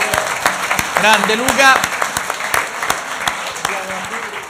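Studio audience applauding in a televised Italian show, steady dense clapping throughout with a host's voice and short bursts of speech over it.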